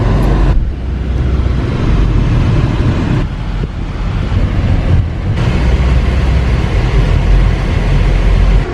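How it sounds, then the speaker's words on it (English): Car wash across the street with cars being washed, a constant loud rushing wash of water and machinery mixed with roadway traffic, dipping briefly a few times before resuming, heard from nearby with no talking. "there's a car wash across the street"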